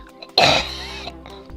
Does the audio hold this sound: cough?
yes